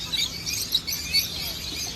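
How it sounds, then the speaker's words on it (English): Parrots and other small birds chirp and tweet in a wildlife park setting, a dense, steady chatter of high calls with a few brighter notes standing out, fairly close, with no talking. "They are all mostly parrots and other small birds."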